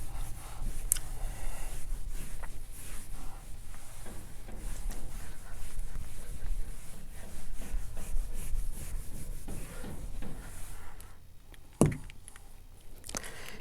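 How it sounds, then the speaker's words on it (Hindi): A board is rubbed clean during a maths lecture on inequalities, giving a continuous close scrubbing and swishing rasp that lasts most of the stretch, ending with a sharp knock near the end and no speech. "ये मैं रब करता हूँ"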